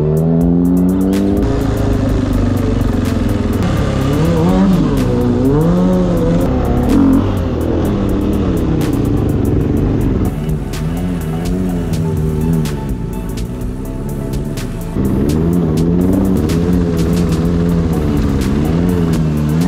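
Onboard a racing car at the Zandvoort Dutch Grand Prix, the engine roars close and loud, revs rising and falling through gear changes with a brief tire squeal, continuing without speech.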